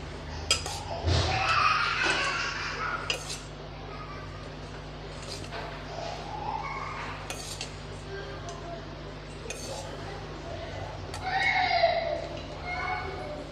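Spoon clinking and scraping in a pan as tempered lemon mixture is stirred into cooked rice, intermittent light metallic taps under a person talking.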